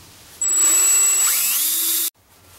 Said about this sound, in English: I'm just going to drill all the way around so that way it makes it easy to cut out with a Dremel